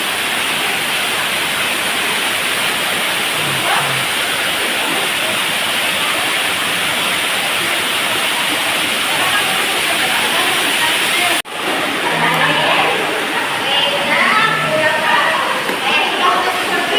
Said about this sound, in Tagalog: Now we're at the waterfall.